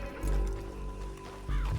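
A horse in a video game whinnies close by, with heavy thudding hooves and low rumbling at the start and end, no talking.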